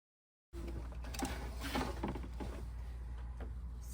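An embroidery machine stitches a Kimberbell sampler after a moment of silence, a low steady motor hum with a faint rapid patter of needle strokes running continuously.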